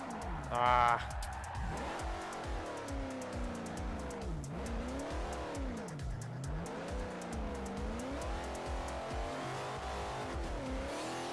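A Plymouth Hemi Cuda in Forza drifts from the cockpit view, engine revving and wavering in long swoops under continuous tire squeal, with someone talking over it throughout.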